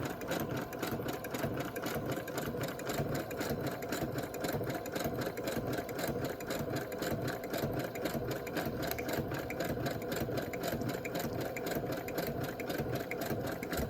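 A sewing machine stitching inside panels runs in a steady, fast mechanical chatter at close range, with an even rhythm throughout and no talk.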